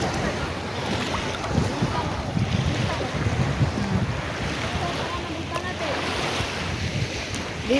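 Ocean waves wash steadily onto Tahaw Beach, with gusting wind buffeting the microphone in a continuous, fairly loud roar of surf and spray, no voices present.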